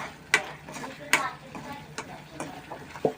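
Pav bhaji masala and red chili sautéed in a kadai: soft scraping stirs every second or so over a faint sizzle, close and quiet.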